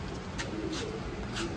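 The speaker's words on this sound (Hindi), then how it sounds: "मद्रासी कबूतर है ये" Madrasi pigeons, a highflyer breed, cooing nearby in a brief, soft series of low throaty coos over a quiet background hiss.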